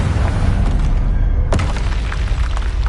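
A Confringo spell explodes in Hogwarts Legacy: a loud, close booming blast with a sharp burst partway through over a dense rumbling roar.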